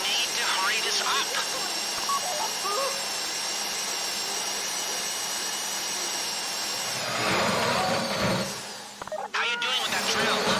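A drill grinds steadily during a GTA 5 heist, a sustained high-pitched whine over a low mechanical rumble, with a louder burst near the end and voices talking over it.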